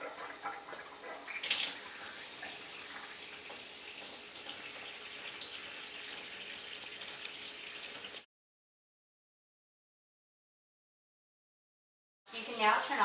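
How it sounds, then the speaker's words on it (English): Water from a kitchen sink faucet runs at a medium flow for about eight seconds, a steady close hiss with a louder surge near the start, then stops and briefly starts again near the end. "Turn on the faucet and allow it to flow at a medium flow."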